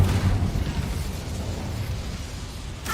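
Incendio fire spell cast in Hogwarts Legacy, a loud whooshing burst of flame with a deep rumbling roar that slowly fades, ending with a faint chime.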